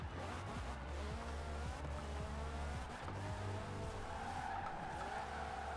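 Ram Rebel TRX concept truck in Forza Horizon 4 on Fortune Island, its engine roaring steadily near and loud with repeated tire squeals and skidding during a gymkhana run, no talk over it.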